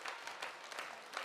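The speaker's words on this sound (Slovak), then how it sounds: "A potlesk už prichádza." Basketball crowd applauding at a Slávia Banská Bystrica vs. BC Slovan Bratislava game, steady dense clapping at moderate level with slight rhythmic swells, heard alone without commentary.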